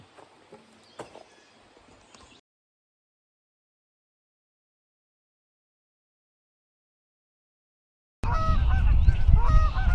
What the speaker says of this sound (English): Cue the geese.